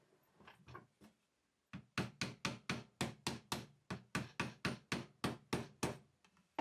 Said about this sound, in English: I'll go light tap with the hammer.